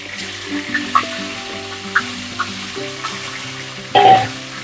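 Bhetki fish heads sizzle as they fry in a pan, a steady crackle with a few light clicks and a louder clatter near the end, set against steady background music.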